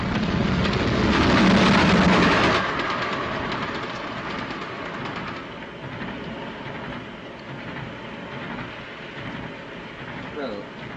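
A passenger train runs along the rails with a steady rumbling clatter, louder for the first couple of seconds, then settling into a constant muffled roll.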